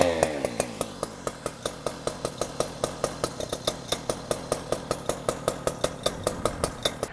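Fire department vent saw engine running on choke: a small two-stroke engine close by, firing in rapid regular pops that settle into a steady, slightly uneven rhythm, loud and alone without speech.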